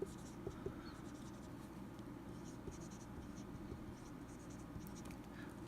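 Chalk scratches steadily across a board while a math solution is written out, producing a faint, continuous scratchy texture with small taps, soft and somewhat distant in a quiet room.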